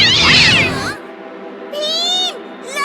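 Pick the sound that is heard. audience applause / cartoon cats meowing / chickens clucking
cartoon cats meowing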